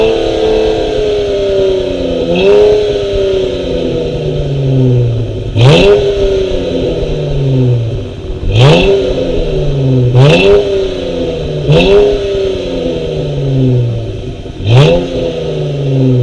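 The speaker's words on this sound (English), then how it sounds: "We got to hear the sound of my Flowmaster American Thunder exhaust." A V6 car fitted with a Flowmaster American Thunder exhaust idles with a deep burble and is revved sharply five or six times, each blip rising and falling back, loud and close with no talking.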